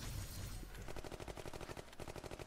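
Pepper's machine gun firing in the game Girls Frontline 2: Exilum, a fast even stream of rapid shots lasting a couple of seconds, close and sharp, without talk.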